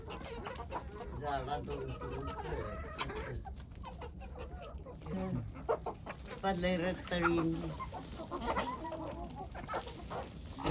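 Native country chickens on a poultry farm cluck and call in scattered bursts, some close and some further off, mixed with quiet talk between people.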